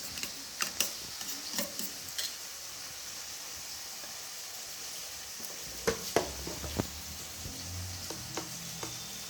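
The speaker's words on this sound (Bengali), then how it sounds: "এবার ডিমটাকে গুলিয়ে নেবে একটু" An egg is beaten in a bowl with quick, uneven tapping and clinking strokes that come in clusters over a soft steady hiss, with no talking.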